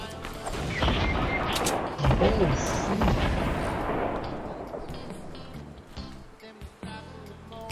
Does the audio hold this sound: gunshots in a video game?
yes